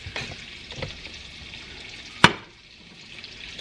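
Chicken fries in a pan over slightly above medium heat, giving a faint, steady sizzle broken by one sharp clink partway through.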